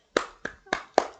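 Four sharp, separate hand claps in quick, slightly uneven succession, close and distinct against silence.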